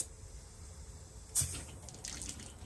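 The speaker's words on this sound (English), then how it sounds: "did you see all that water just come flying out the bottom there?" A sudden burst of hissing water spraying out of the bottom drain while blowing out RV water lines, briefly loud and then settling into a lighter, uneven splashing.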